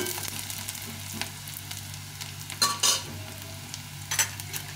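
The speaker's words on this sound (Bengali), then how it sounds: "পেঁয়াজটা লাল লাল করে ভেজে নিয়েছি" Onions fry until reddish in a pan, a continuous close sizzle broken by a few louder scraping stirs of a spoon.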